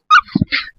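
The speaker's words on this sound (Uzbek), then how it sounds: "Mana kuchukchalar, har xil kuchukchalardan bor." A puppy at a dog market gives a short, close whimpering yip, a single high whine followed by a brief lower yelp.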